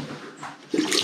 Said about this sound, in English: Nice running water.